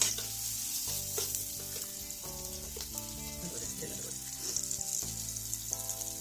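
Spices for a Bengali katla fish curry sizzle and fry in a pan, a steady crackling hiss with soft stirring, quiet and close, over faint background tones.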